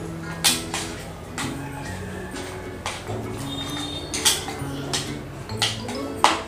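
Chicken being mixed with garam masala and salt in a bowl, a spoon clinking and scraping against it in irregular taps, with a steady musical backing underneath.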